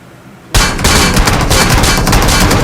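Shotgun gunfire breaks out suddenly in a shooting video game after a quiet moment, then keeps going as loud, dense shots and battle noise.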